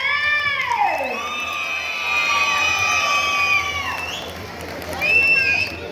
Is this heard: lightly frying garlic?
no